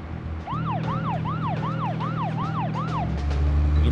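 Police sirens wail in a fast repeating up-and-down pattern, about seven rises and falls, over a steady low engine hum in the video game Deadly Premonition: Origins, loud and close with no talk.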